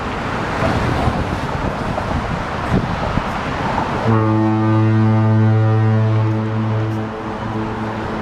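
A deep, loud foghorn blast from the Golden Gate Bridge starts about halfway through and holds steadily for several seconds over rumbling wind and traffic noise, then cuts off.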